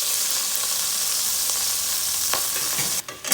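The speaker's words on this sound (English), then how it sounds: "I'm going to add a few dashes of vinegar." Vinegar going into sofrito in a hot pan, a steady close hiss of sizzling that holds throughout, with a short sharper crackle near the end, no talking.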